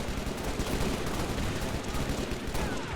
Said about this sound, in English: Love the sound of the shotgun.